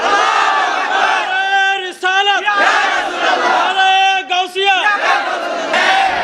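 A large crowd at an Islamic gathering roars the takbir in unison, loud repeated chanted shouts of many voices rising and falling in waves.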